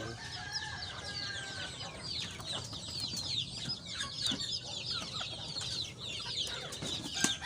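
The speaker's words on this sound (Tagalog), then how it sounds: "Mao ni atong poultry karon mga boss." Chickens in a small backyard poultry coop cluck steadily throughout, with overlapping close and distant calls and scattered sharp squawks, and no one speaking.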